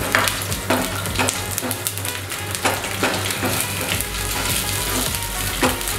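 Garlic frying in a pan, with a steady, close sizzle and a few spoon-stirring scrapes against the pan across the clip; no talking.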